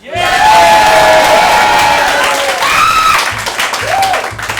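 A loud audience at a hip hop showcase erupts in cheering, whoops and applause for the rap battle host, sustained shouting voices over clapping that eases slightly toward the end.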